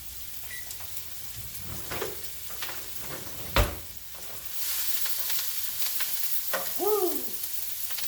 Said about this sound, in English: Now we just stir it, simmer it, let it cook